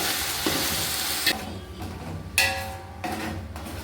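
Ginger garlic paste sautés in a pan for vegetable biryani, giving a close, crackling sizzle with several sharp spoon knocks and scraping stirs against the metal.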